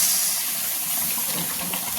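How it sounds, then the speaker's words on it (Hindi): Hot water pours into a pressure cooker holding lentils with an onion and garlic tempering, making a steady, close, hissing rush that runs unbroken for the whole span, without any talking. "ये जो हमारा कुकर है इसमें थोड़ा सा गर्म पानी डाल देते हैं।"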